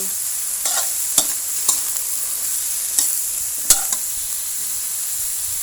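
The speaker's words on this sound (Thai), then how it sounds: "ใส่บัวใส่ลงไปผัดเลย" Lotus stems tossed into a hot pan with cooked pork hiss and crackle in a stir-fry, a bright steady sizzle broken by a few sharp spatula clacks against the pan, close up with no talking.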